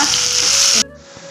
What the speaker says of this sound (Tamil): கொஞ்சமாக நம்ம புளி சேர்த்து வதக்கலாங்க